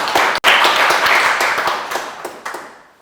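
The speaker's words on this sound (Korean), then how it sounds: "뜨거운 박수로 환영해 주시기 바랍니다" An audience at a Korean political communication conference claps warmly to welcome a speaker. It is close, dense clapping with distinct individual hand claps, thinning out and fading over a few seconds.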